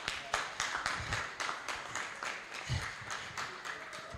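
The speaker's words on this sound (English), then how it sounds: "Please, a round of applause for her." A small audience at a forex trading seminar gives a round of applause, a moderate patter of claps with uneven bursts, fairly close, while a voice talks intermittently underneath.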